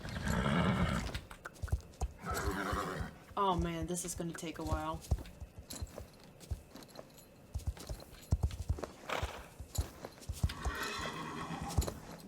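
Horses clip-clopping along in the Star Stable video game, with repeated hoofbeats and a whinny mixed under steady talking throughout.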